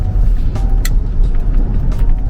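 A car drives along a gravel road in rural eastern Finland, giving a loud, steady rumble of tyres and engine with brief crunchy bursts from the loose surface.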